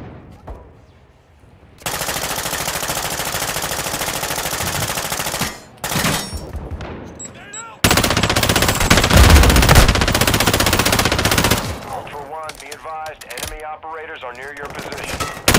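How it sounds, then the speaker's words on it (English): Gunfire in a first-person shooter video game, loud sustained machine-gun bursts in two long stretches, with a voice talking over a quieter gap between them. "Taking effective fire!"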